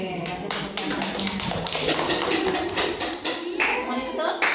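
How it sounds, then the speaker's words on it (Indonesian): A class applauds at the end of a student presentation on recycled inorganic-waste art, with dense, sustained clapping from many hands filling the room for several seconds, voices faintly mixed in. "kasih tepuk tangannya"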